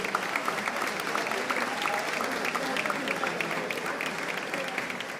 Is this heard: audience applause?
yes